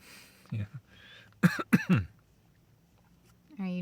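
A person coughs and clears the throat in a few short bursts, close to the microphone, with quiet breathing between and a brief voice near the end.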